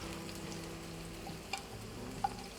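Pork burgers sizzle steadily on a griddle, a faint even frying hiss with a couple of small pops, no voices.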